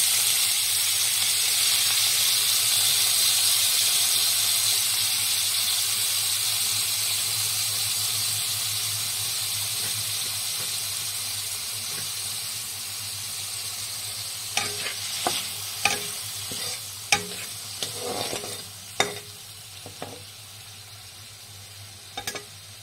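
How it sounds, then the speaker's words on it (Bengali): A steady, hissing sizzle of shrimp frying in a little oil in a wok, followed later by clinks and scrapes of a utensil stirring in the pan. "কড়াইয়ে সামান্য তেল নিয়ে আমি চিংড়ি মাছগুলো সামান্য একটু ভেজে নেব"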